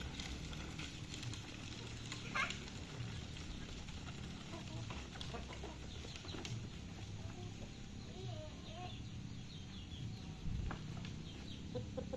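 Chickens clucking around a home during daily chores, with repeated soft clucks and calls scattered over steady background noise; a voice and household sounds mix in faintly.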